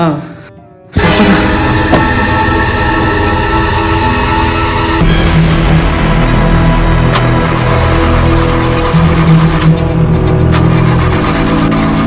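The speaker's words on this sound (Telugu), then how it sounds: "ఏందన్నా కార్ స్టార్ట్ అవ్వట్లా?" A car's engine cranks without catching, a mechanical grinding that holds on with a few shifts in tone over about eleven seconds after a short quiet start, heard up close.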